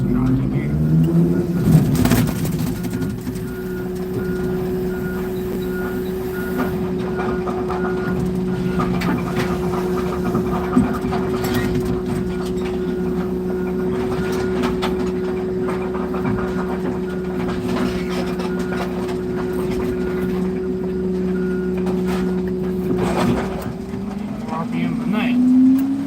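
A car crusher runs with a loud, steady, low mechanical drone, broken by occasional clanks and scrapes as a dropped piece of scrap is crushed. The drone swells at the start and the end.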